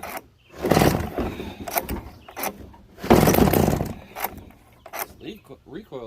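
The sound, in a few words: pull-starting a small engine, throttle stuck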